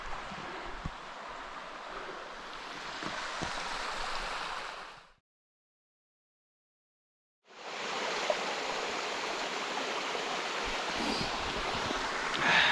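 A newly formed waterfall on MacKay Brook in the MacKay Brook Nature Reserve near Millsville, Nova Scotia, roars as a loud, steady rush of water, cut by a couple of seconds of silence midway before resuming.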